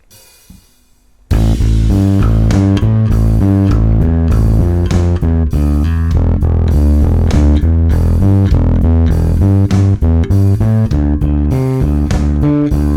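After a brief quiet moment, a distorted bass guitar works through a riff at a slower tempo, each picked note distinct in a continuous, loud, even run with no talking.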